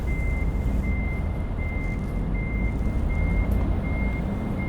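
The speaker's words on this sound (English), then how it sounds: "the sound of the trucks, man, when you're picking your job up is epic" Trucks reversing in Euro Truck Simulator 2, a steady series of evenly spaced high reversing beeps over a loud, continuous low engine rumble, with no talking.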